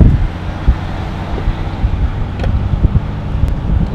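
A 24-valve Cummins diesel with a 5-inch straight-pipe exhaust rumbles loudly and steadily up close, a deep continuous drone broken by a few sharp pops and thumps, with no voices over it.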